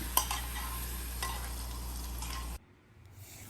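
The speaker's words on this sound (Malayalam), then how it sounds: "നമുക്കിനി ഈ പച്ചടിയിലേക്ക് ഒഴിച്ചു കൊടുക്കാം" Hot tempering oil poured into mango pachadi crackles in a dense, steady sizzle for about two and a half seconds, then drops away abruptly into faint kitchen sounds.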